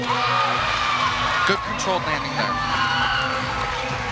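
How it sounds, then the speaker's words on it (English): Crowd cheering and whooping in an arena after a gymnast's vault landing at an NCAA gymnastics meet, a sustained roar beneath a commentator's voice. "Cheering section going crazy for her"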